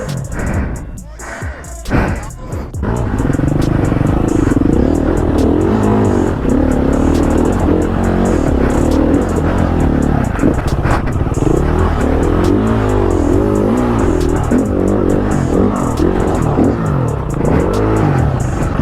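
A Husqvarna TE250i dirt bike revving hard while the rider slips the clutch over rocks, a loud close engine drone rising and falling with clattering underneath, with a few seconds of rattling before it settles into sustained revving.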